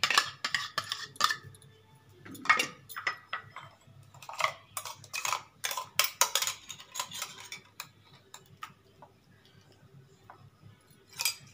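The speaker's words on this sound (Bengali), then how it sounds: "এটা আমি চিকেনের মধ্যে দিয়ে দেবো, সব কিছু আমি মিশিয়ে দেবো এর মধ্যে।" Spice paste being mixed into chicken in a pot for chicken kosha with sour yogurt and garlic: clinks and scrapes of a utensil against the pot come in irregular bursts, fairly close and quiet, with no talking.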